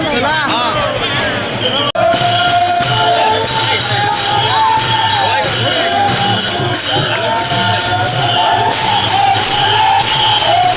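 Dense crowd at Pandharpur temple during Ashadhi Ekadashi, a steady loud hubbub of many voices with rhythmic thumping close by, continuous throughout.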